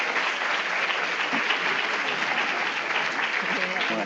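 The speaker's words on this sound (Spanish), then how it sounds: "Vamos a agradecerle con nuestro caluroso aplauso" An audience gives warm, sustained applause after a lecture on the Civil and Commercial Code, a dense and steady clapping that fills the whole stretch, with voices faintly mixed in.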